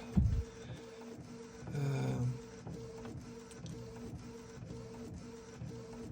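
An inkjet-style printer running a print job for homemade S scale model railroad decals, with steady mechanical whirring, rhythmic carriage passes and periodic clicks, plus a brief louder feed motor surge near the middle, close and alone.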